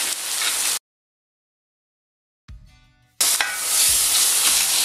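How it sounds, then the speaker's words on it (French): Onions frying in a pan give off a loud, steady hiss and crackle, broken by a sudden full silence of about two seconds before the sizzle returns as strong as before. "grille un peu les oignons"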